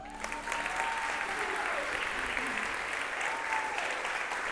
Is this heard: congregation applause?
yes